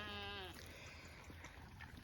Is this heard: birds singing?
no